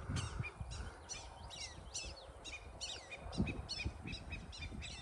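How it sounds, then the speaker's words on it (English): Several birds call repeatedly outdoors at a coastal state park campsite by the water, harsh caws and chirps in a steady rhythm over a low rumbling background, moderately distant. "There are a lot of birds out here."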